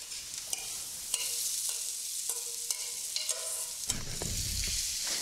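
Scrambled fish sautés in a pan with sautéed aromatics, a steady close frying hiss punctuated by metallic scrapes and taps of a spoon stirring, no voices heard.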